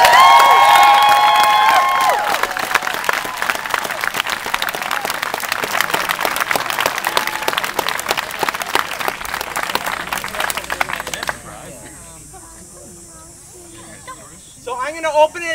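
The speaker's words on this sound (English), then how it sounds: "let's give the welcoming committee and ourselves a round of applause" A meeting audience claps together for the welcoming committee, a loud dense patter of hands under a voice, thinning out after about eleven seconds to quieter scattered sounds.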